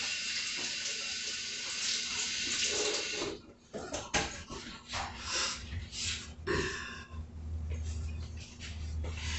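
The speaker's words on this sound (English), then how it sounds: "Rinse my hands again." Running tap water while hands are rinsed in a home kitchen, a steady close splashing stream that breaks up unevenly as the hands move under it, with no speech.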